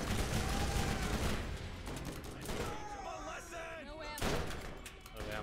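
Rapid SMG fire and explosions from the video game Borderlands rattle in dense bursts, loud and sustained, briefly easing in the middle before another burst of shots.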